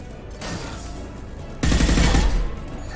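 Turret gunfire in the sci-fi shooter Mass Effect 2: a dense, continuous roar of shots that suddenly grows louder and heavier partway through, with no talking.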